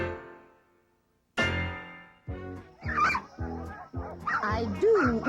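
A cartoon puppy, the adopted pup in a 1987 Pound Puppies episode, gives a string of short yips, barks and whimpers in quick bursts against a soundtrack, after a brief sustained musical tone fades out.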